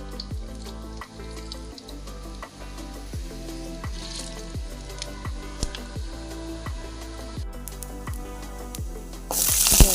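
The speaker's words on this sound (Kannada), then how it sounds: "ಅದು ಎಣ್ಣೆ ಕಾದ ನಂತರ ಸಾಸಿವೆ ಹಾಕೊಳ್ತಾ ಇದ್ದೀನಿ. ಈಗ ಜೀರಿಗೆ ಹಾಕೊಳ್ತಾ ಇದ್ದೀನಿ." Mustard seeds and cumin sizzle in hot oil in a pan for tempering, a steady frying hiss with frequent sharp popping crackles, close and fairly loud, and a brighter burst of sizzle at the very end; no talking.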